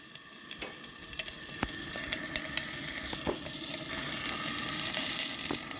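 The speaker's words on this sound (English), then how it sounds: "we got some pork fat that we're actually gonna render down" Pork fat sizzles steadily as it renders down in a makeshift pan bent from a can over a campfire, with crackles and pops rising to a louder fry, no talking.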